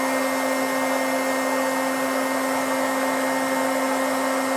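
A heat gun fitted with a reducer nozzle, preheating before forming Kydex, gives a steady, loud, unbroken whine and blowing hiss with a constant tone throughout and no talk.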